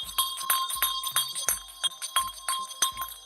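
A bell rings in a rapid series of bright, metallic strikes, about a dozen evenly spaced dings each with a short ringing tail.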